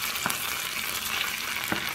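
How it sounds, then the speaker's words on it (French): Leftover fish marinade frying in reused vegetable oil in a small pan, a soft steady sizzle with two brief stirring scrapes. "Je vais laisser tout ça bien frit."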